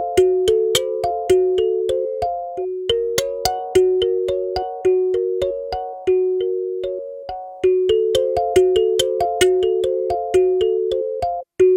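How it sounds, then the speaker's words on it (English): A clean multisampled kalimba with no effects plays in an Elektron Tonverk sampler, a bright plucked melody of quick, bell-like notes in a steady repeating pattern, each note decaying fast, with no talk. "Here we have the completely clean Kalimba sound with no effects at all."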